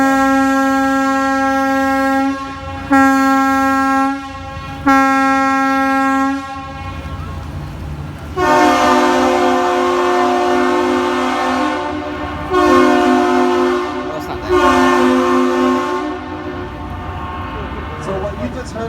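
Freighter ship horn salute at the Duluth Aerial Lift Bridge on the Great Lakes: a long, loud, deep blast followed by a rhythmic series of long and short blasts, with short gaps between them.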